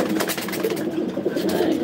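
Pigeons cooing close by, a steady run of low, throaty coos and soft murmurs from birds kept together in a loft, fairly loud and continuous with no talk.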